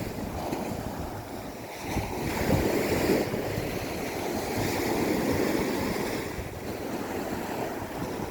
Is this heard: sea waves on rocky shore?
yes